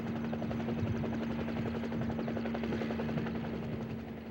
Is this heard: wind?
no